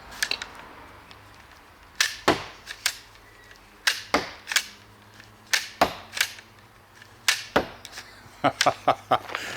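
Rubber-powered dual wield crossbow fires a rapid series of sharp snapping shots, about twenty loud cracks in irregular bursts with quick doubles and triples near the end, heard alone over faint background hiss.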